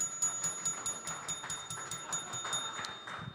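A bell rung for a correct answer on a Packers Clubhouse Live show, struck in a quick, steady series of bright metallic dings over a faint background hum.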